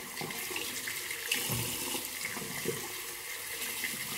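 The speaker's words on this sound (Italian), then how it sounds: "L'acqua deve venire calda." Tap water runs steadily into a sink, a continuous close splashing rush that holds alone throughout.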